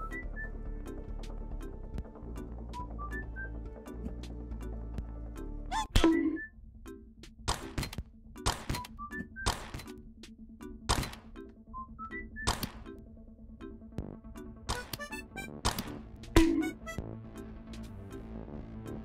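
Repeated cartoonish bonking hits in a penguin heist video game, sharp thunks and whacks at irregular intervals over a light game soundtrack, some louder than others.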